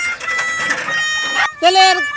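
Local chickens cluck and squawk nearby in a busy burst, followed by a short drawn-out call near the end.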